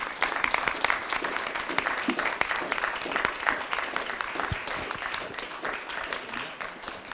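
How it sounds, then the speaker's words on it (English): Sustained applause from an audience in a conference room at an arts festival summit in Yerevan, dense and steady clapping filling the room throughout, with no talk over it. "I don't know if you could hear the applause in the room for your contribution"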